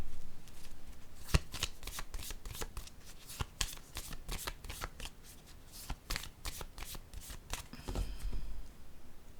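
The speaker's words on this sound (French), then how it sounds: "Mais je vais déposer une autre carte ici." Tarot cards shuffled and handled, then one laid down on a table, giving a rapid run of crisp, close riffling snaps and slides with no talking.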